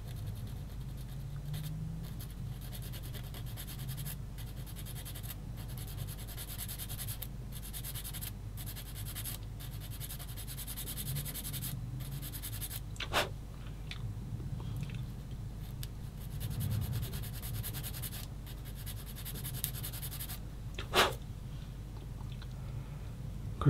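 Coarse sandpaper rubbing a small part of a 1/35 scale Das Werk Schwimmwagen Trippel SG 6/38 model kit, a faint, steady scratching with a few sharper scrapes and clicks, close by and with no talk.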